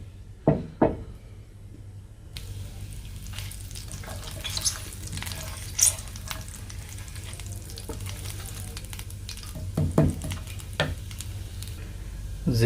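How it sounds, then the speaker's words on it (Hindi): A tablespoon of cumin seeds frying in hot oil for tempering dal, a bright steady sizzle near the pan after a few knocks, with spoon stirring and occasional clinks throughout. "इसमें मैं डालूँगा ज़ीरा 1 टेबल स्पून। ज़ीरे को मैं अच्छे से पकाऊंगा।"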